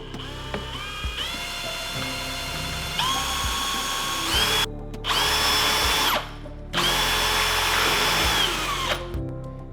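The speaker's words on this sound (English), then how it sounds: "I'm gonna drill straight through." A power drill bores straight through a wooden kitchen cabinet drawer while a cabinet handle is being fitted, its motor whining steadily and rising in pitch in repeated bursts, close and loud, with brief pauses between runs.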